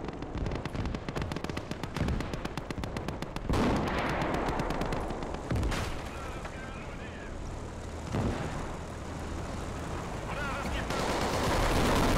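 Heavy machine guns in a video-game tank battle fire long rapid bursts, loud and dense, over a rumbling battlefield with heavier blasts and a distant aircraft drone, while someone talks over the action.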